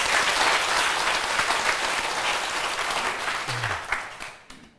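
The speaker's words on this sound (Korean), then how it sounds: "박수 한번 부탁드립니다." An indoor lecture audience claps together in a dense burst that gradually thins and fades out over a few seconds, with a few last scattered claps.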